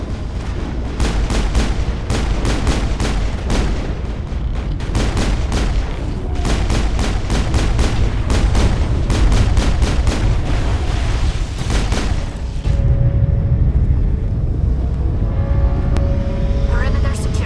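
Rapid bursts of gunfire from the video game Mass Effect, repeated volleys with booming impacts over most of the stretch, loud and dense, with game voices talking over the action before it drops to a lower rumble near the end.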